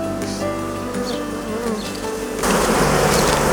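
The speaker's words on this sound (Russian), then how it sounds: "Аккуратно убираем пчел. Порода миролюбивая, поэтому можно работать без маски" Honeybees of a gentle breed swarm over a hive frame, giving a steady, close, continuous buzz that grows louder and denser toward the end.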